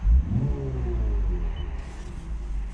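A brand-new 2024 Lexus IS 350 F-Sport engine revs up loudly close by, rising and holding with a deep rumbling tone before easing off slightly.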